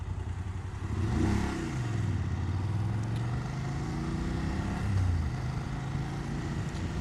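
A BMW F750GS motorcycle pulls away from a standstill, its engine note climbing through the revs and then easing back, loud and close, with wind noise underneath.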